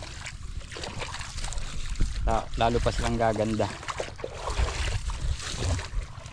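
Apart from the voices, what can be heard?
boat diesel engine running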